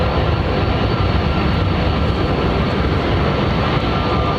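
Steady, loud broadband roar of an airliner with Rolls-Royce Trent 1000 engines at London Heathrow, a continuous jet rumble with no breaks and no voices.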